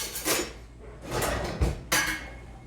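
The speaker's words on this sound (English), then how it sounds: "I'll get a bigger spatula here." Kitchen utensils clatter and rattle as a bigger spatula is pulled from among them, with several metallic knocks and a sharp clink near the end, close and fairly loud.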